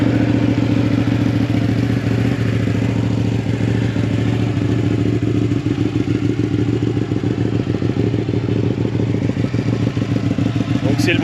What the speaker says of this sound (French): C'est le bruit typique Ducati.